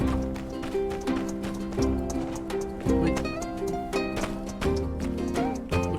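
Horse hooves pound in a quick galloping rhythm in the video game My Time at Sandrock, loud and close, layered over a steady musical backdrop.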